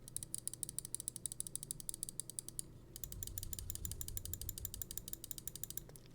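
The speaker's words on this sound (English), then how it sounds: "this is going to be a sound test. Right and left click." Left and right buttons of an Xtrfy M42 gaming mouse clicked in a steady, rapid series of crisp, close plastic clicks, with a brief pause midway before the clicking resumes.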